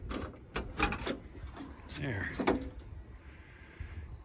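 A 1958 Chevy two-door has had its door post cut and modified. Its door opens with a series of close mechanical clunks and latch clicks, then a short creaking, scraping swing. A voice speaks once, briefly.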